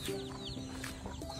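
Chickens cluck and murmur close by on a small property, several soft overlapping calls in quick succession, with a louder squawk at the end.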